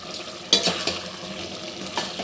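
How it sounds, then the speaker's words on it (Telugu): A spoon scrapes and stirs chilli and coriander powder into chicken masala for pulao in a pressure cooker, a few distinct clinks and scrapes over a soft sizzle, close and moderately loud. "వేసుకొని కలుపుకుందాం"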